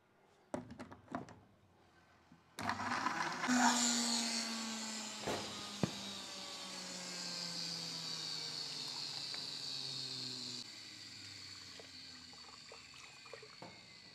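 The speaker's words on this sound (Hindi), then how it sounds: "पानी डालें," Water is poured into a pot while cooking shami kebab burger mixture, a steady hissing pour with a clunk at the start and faint splashes and knocks near the end.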